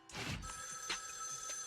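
An in-game phone rings in Zenless Zone Zero's Hollow Zero mode, a bright electronic chime repeating in short pulses over a quiet background.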